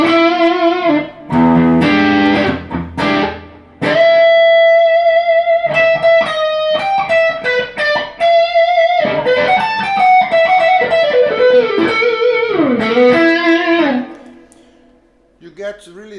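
An electric guitar played through Cornerstone and Iguana distortion pedals gives gritty, sustained, distorted notes and chords. Loud bends and held tones are broken by short pauses, and the last notes fade out.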